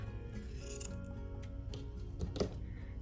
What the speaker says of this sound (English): we're gonna fold it in half and just cut it in half